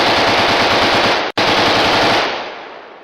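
A Kalashnikov machine gun fires a loud, rapid sustained burst that breaks for an instant, resumes, then cuts off sharply and leaves a fading echo, with nobody speaking.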